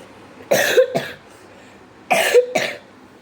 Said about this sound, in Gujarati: સોરી, તો મને ખાંસી છે